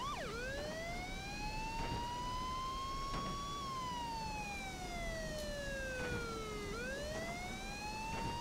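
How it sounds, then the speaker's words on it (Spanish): A vehicle siren in the video game Miscreated wails continuously, sweeping slowly up and down in pitch, loud and close, with no talking over it. "Ya puedes quitar la sirena, ¿no?"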